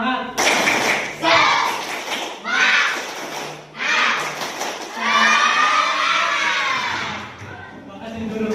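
Elementary school children at SD Negeri Taraban 05 perform the rhythmic 'tepuk semangat' clapping chant, loud voices shouting together in bursts over thumping claps and taps in a classroom.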